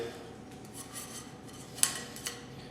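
A razor blade scrapes body filler off a surface in faint, quiet rasping strokes, with a couple of slightly sharper scrapes near the end, close and without talk.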